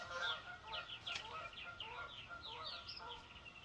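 Geese honk repeatedly in a loose, overlapping series of nasal calls, fairly distant and faint against a quiet outdoor background, with no talking.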